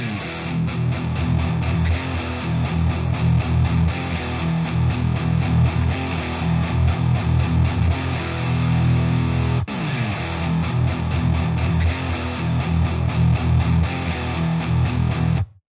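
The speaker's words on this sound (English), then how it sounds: "I would bring in the Swedish guitar tone into the more clean one." Thick, heavily distorted electric guitar run through Neural Amp Modeler presets, a Swedish-style tone blended with a cleaner one, playing loud chugging rhythmic riffs continuously with a brief break near the middle.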